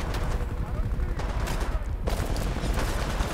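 Sniper rifle fire and other gunfire in the shooter game Titanfall 2, a dense, loud stretch of overlapping shots and battle noise with voices talking over it.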